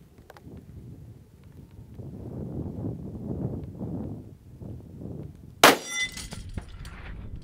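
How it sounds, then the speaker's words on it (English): A rifle bullet strikes a steel target at long range, giving one sharp metallic clang with a brief ringing tail over steady wind noise, heard after a short delay from the shot. "that beautiful sound of bullets striking steel"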